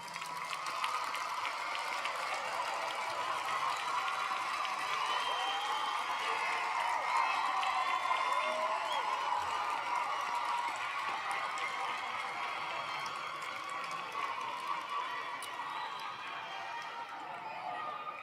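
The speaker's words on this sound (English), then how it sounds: "Please, graduates, please turn around and give a hand of applause to your families and friends." Graduates at a University of Memphis commencement ceremony applaud their families and friends, a dense, steady wash of clapping from a large crowd that holds at an even level for the whole stretch.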